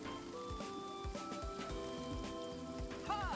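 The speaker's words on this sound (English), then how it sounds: "It's raining." Steady rainfall in the video game Promise Mascot Agency, a soft continuous patter of drops on surfaces beneath quiet game music with gentle melodic tones and a brief chime near the end.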